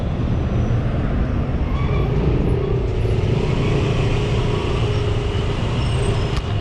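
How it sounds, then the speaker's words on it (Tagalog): Steady roadside traffic on a Manila connector road near Paco and Santa Mesa, a continuous loud rumble of engines and passing vehicles with no clear gaps, heard from close by. "Traffic ulit."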